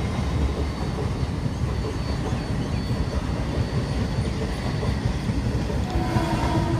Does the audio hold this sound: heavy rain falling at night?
no